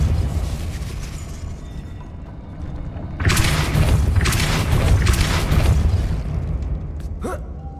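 A Depulso spell blast goes off in Hogwarts Legacy, a loud broadband burst that swells and sustains for a few seconds over a steady game-ambience bed, with a sharp crackle near the end.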